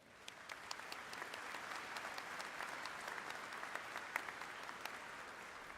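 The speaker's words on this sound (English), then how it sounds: "Please join me in giving them a round of applause as well." Audience applause at the SIUC 2025 Spring Commencement ceremony: steady, dense clapping from a large crowd, sustained evenly throughout with a few sharper individual claps standing out.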